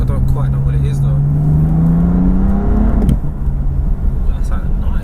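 A 2017 BMW M4 CS fitted with a tuned competition-style exhaust revs up close, its rising engine tone climbing for about three seconds before dropping off with a crackle. People talk over the engine.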